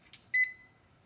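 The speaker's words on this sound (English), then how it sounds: "There's some beeping." A short electronic beep from a 2000A UTRAI jump starter, a bright steady tone lasting about a tenth of a second, preceded by a faint click, in a quiet room.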